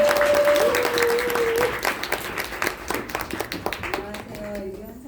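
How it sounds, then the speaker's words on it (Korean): Audience at a business presentation applauding to welcome a speaker, with brisk, distinct claps under a sustained tone early on and voices joining as the clapping thins out toward the end. "우리 한상숙 리더님 박수로 모시도록 하겠습니다."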